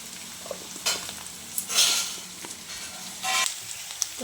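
Mustard seeds and green chillies sizzling in hot oil in a pan with spiny gourd, a soft steady fry broken by a few brighter popping crackles and spatters, close and fairly quiet.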